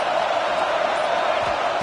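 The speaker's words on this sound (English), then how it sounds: "It's early, but this crowd is fired up. Listen to this noise here." A big stadium crowd at an Indiana vs Washington college football game makes a constant, dense roar of noise, loud and unbroken with no distinct cheers standing out.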